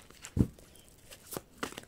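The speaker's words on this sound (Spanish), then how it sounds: "Así que voy a empezar a barajar." Tarot and astrology cards are shuffled close by, giving a few soft flicks and crinkles scattered over the quiet stretch with no talk.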